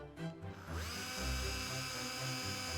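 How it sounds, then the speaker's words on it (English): A handheld power drill bores a hole in a manor building, with a short start-up burst followed by a steady loud whine that holds a constant pitch, close by and without talk. "So I'm just going to drill your hole."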